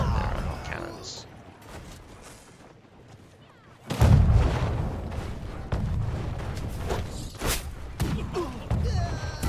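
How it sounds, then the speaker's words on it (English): Cannon artillery fire in the strategy battle game Conqueror's Blade: a sudden heavy boom followed by a dense run of thuds and blasts, loud and close, under commentator talk. "Cannons."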